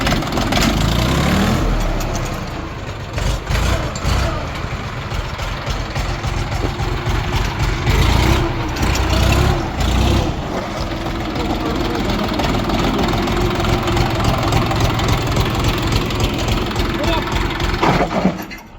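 A Xingtai tractor engine rumbles steadily at close range, a low continuous drone with small rises and dips as gears are shifted, while people talk over it throughout.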